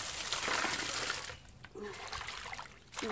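Tap water runs and splashes over freshly picked garden mint being rinsed by hand, a steady close trickle with brief dips and pauses as the leaves are moved.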